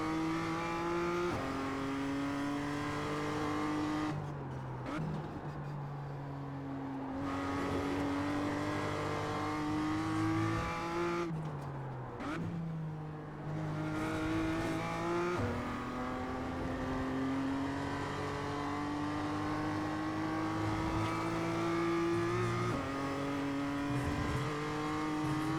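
BMW M2 race cars scream around a track, engine notes climbing steadily through the gears, then dropping sharply on shifts and braking before winding up again, loud and continuous with a rival car close behind.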